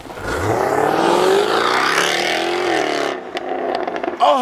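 A fast car on the TFL test track, with its engine sound piped into the cabin through the speakers, roars hard and steadily under acceleration and keeps a loud, rising note before it eases off near the end.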